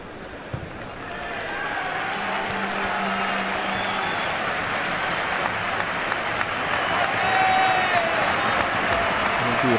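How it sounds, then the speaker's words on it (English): A football stadium crowd applauding a substitute warming up on the near touchline during a Spanish second-division league match, broad steady clapping from many spectators spread across the ground, with commentary voices over it. "the applause is for Totte. He's warming up on the near touch line"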